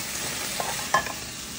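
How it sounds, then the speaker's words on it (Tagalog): Prawns for chopsuey are stirred in a frying pan: a faint sizzle with a couple of brief scraping clicks of the utensil, short and quiet. "continue stirring ng prawn kasi hindi pa siya luto"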